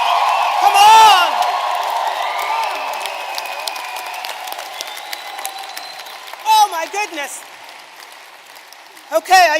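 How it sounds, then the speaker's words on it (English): A graduation ceremony audience claps and cheers in a large hall, with a loud burst of applause and whoops early, then scattered claps and shouts while voices speak over the crowd. "Clapping away, there's my crew up there. Give them a hand."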